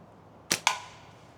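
A Seljan Stylus Revolve slingshot firing a shot: two quick sharp snaps in rapid succession, close and crisp against a quiet background, fading fast.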